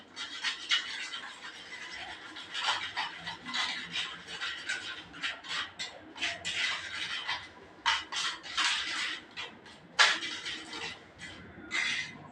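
Snack batter is beaten in a bowl, making irregular scraping, rubbing and clinking strokes that come in bursts at moderate, close-up loudness with no speech.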